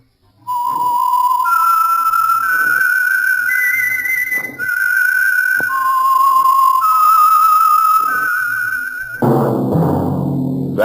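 A clear whistled tune of sustained notes steps up and down in pitch, sounding alone, ending with a brief burst of orchestral music.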